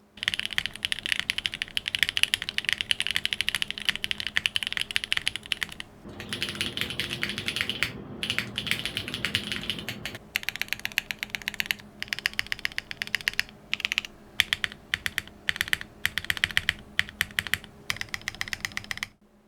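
Rapid clacking of a mechanical keyboard with hand-lubed Gateron Pure Berry switches on an aluminium plate, close and crisp, with a brief pause before the keystrokes resume in a steady stream.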